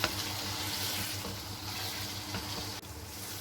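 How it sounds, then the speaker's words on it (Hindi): Chicken jalfrezi with masala frying in a pan, a steady close sizzle with faint stirring scrapes running continuously, no voices. "तकरीबन 2 मिनट तक मैं इसको फ्राई करूँगी ताकि मसाले इसमें भी मसाले का जायका शामिल हो जाए।"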